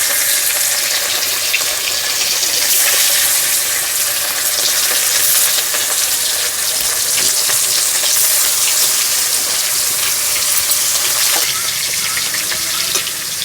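Fish pieces frying in hot oil in a karahi for a village-style mustard fish dish, a steady loud sizzle and crackle throughout with faint clinks of a utensil, no voices.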